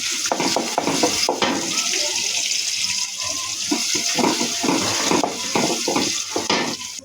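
Crushed garlic frying in a generous amount of oil, a continuous hissing sizzle with rhythmic stirring and scraping of a spoon against the pan, close and fairly loud.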